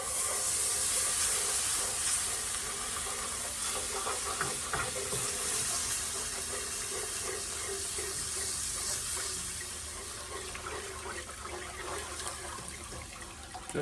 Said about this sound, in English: now we're gonna slowly stir in our 2 cups of beef